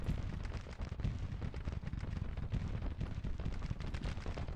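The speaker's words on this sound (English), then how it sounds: "Here, those dastardly Gatling guns tapping." Gatling guns fire in the Grand Tactician battle game, a dense, unbroken clatter of rapid shots that is loud and continuous throughout, with no voices over it.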